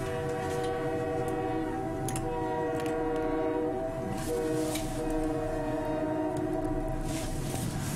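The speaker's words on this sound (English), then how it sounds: "Here comes our next train." Train passing nearby with a sustained multi-tone horn blaring over rumbling wheels and rattling cars, loud and continuous throughout.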